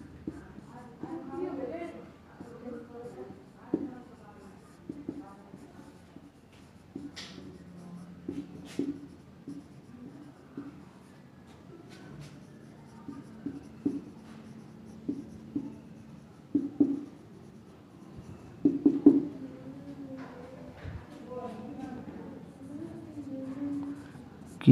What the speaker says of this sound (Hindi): एक बात लिखते हैं यहाँ पे नोट में